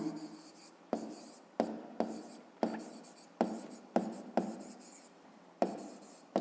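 Pen strokes on paper while a nonagon problem is worked out for a fifth-grade maths exercise, a steady run of short scratching strokes with sharp onsets, close and fairly quiet, with no talk.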